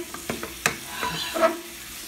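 Food frying in olive oil sizzles quietly and steadily, with a few sharp stirring scrapes and clicks of a utensil against the pan over a short span.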